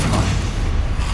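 Stupefy spell cast again and again in Hogwarts Legacy, a loud, dense run of booming magical blasts and thuds that overlap with no clear gaps across the short stretch.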